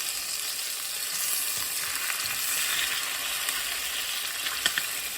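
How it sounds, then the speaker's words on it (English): Skin-side-down pieces fry in a pan, giving a steady, close hiss of sizzling oil with scattered small pops and crackles throughout and no talking. "I'm gonna go ahead and do the next batch, skin side down. Doing it in the pan first is going to give it so much flavor."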